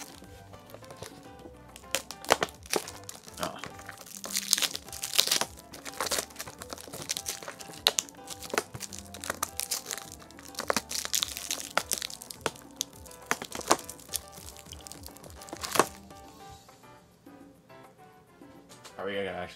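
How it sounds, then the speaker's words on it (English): Packaging of a Japanese-version Bowser Jr. amiibo crinkles and crackles as it is handled and opened. The plastic makes irregular, repeated crunches and snaps up close, with brief quieter gaps. "let's go ahead and unbox this guy and take a closer look at him."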